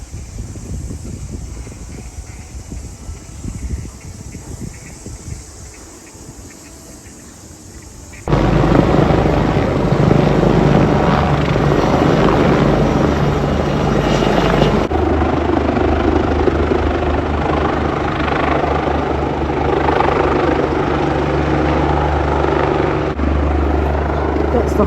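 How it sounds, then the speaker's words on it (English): Helicopter flying toward a hospital beside botanical gardens in Christchurch, a loud continuous rotor and engine roar with wind buffeting the microphone, growing heavier partway through and holding steady. "that was a helicopter bringing some sick patient"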